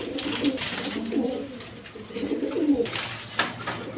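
Pigeons coo in a loft where a pair is kept with a chick, the low rolling calls repeating in several overlapping bursts close by, with no voices over them.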